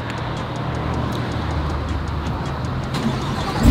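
A 2020 Chevrolet Corvette C8 engine fires up by remote start, settling into a steady, rumbling idle that holds at an even level throughout, heard nearby without speech.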